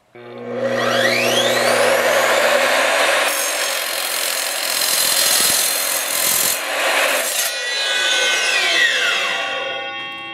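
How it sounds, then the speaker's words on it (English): An R255SMS 10-inch TCT sliding miter saw spins up with a rising whine, then bites through thin aluminum angle with a loud, harsh grinding screech before winding down. "it cut through that aluminum piece very easily"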